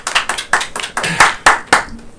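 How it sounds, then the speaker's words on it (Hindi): Scattered hand claps from a small group greeting a guest on The Brajhood Show, an uneven patter of a few sharp claps that thins toward the end. "तो जोरदार ताली से स्वागत कीजिए।"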